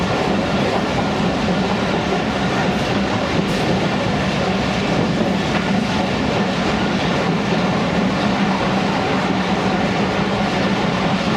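Karakoram Express running through Mian Channu railway station, a steady loud rumble of wagons and rail noise with faint clickety-clack throughout, no voices.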